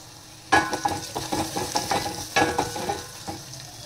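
A spoon scrapes and stirs through a pot of dal with turmeric in repeated strokes, with a soft sizzling underneath.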